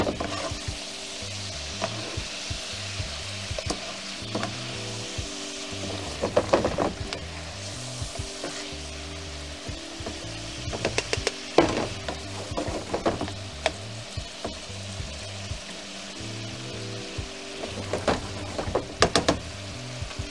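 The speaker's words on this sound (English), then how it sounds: "Make sure the shrimp is cooking properly." Garlic shrimp sizzle steadily in a hot pan for a Spanish recipe, with a utensil scraping and stirring now and then, a few sharper clatters against the pan standing out above the constant frying hiss.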